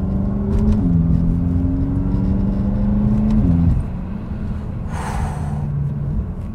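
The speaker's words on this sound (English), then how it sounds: "I'm sure you guys noticed already the sound that is making when I accelerate" A BMW F10 M5 engine pulls hard under acceleration, a loud close drone rising in pitch with quick gear-shift drops and a brief whoosh near the end.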